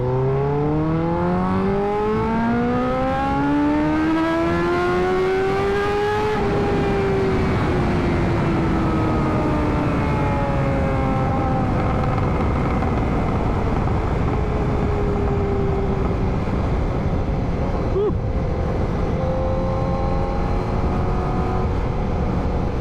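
A Honda CBR 1000RR-R with unique modifications revs loud and close, its engine note climbing steeply through one gear, dropping at the shift, then pulling again on a slower rise, with no talking over it.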